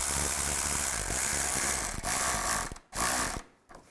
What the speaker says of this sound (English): tighten down the clamp